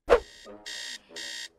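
Cartoon alarm clock going off: a sharp thump, then two loud electronic buzzing bursts, each lasting about a third of a second, separated by a short gap.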